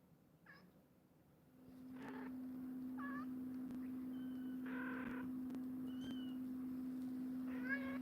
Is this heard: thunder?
no